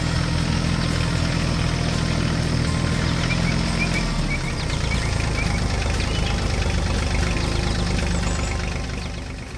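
A steady tractor engine in a 3D construction-vehicle animation idles and rumbles with a low knocking rhythm, loud and close, running continuously with no talking.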